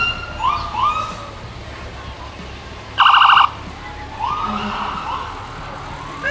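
Fire engine sirens at the Fall Roundup Parade in North St. Paul, with rising and falling wails, a brief loud horn-like blast in the middle, and steady crowd and street noise around them.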